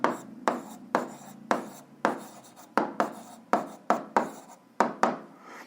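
A pen writes out an algebra solution check by hand in quick repeated strokes, about a dozen sharp scratchy bursts in a steady rhythm, close and alone.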